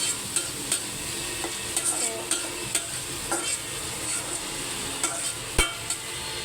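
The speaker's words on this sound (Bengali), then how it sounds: "মুসুর ডালটা একটু কষিয়ে নিলাম, এরপরে দিয়ে দেবো শাক।" Red lentils (masoor dal) sautéing in a pan give a steady close sizzle, broken by repeated sharp scrapes and clinks of a spoon stirring against the metal.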